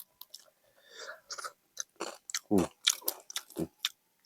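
Crispy fried yellow tilapia tail chewed up close, with irregular crunchy bites and wet mastication sounds in quick bursts, with a little speech nearby.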